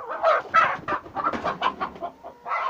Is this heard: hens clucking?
yes